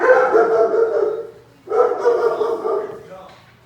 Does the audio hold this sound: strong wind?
no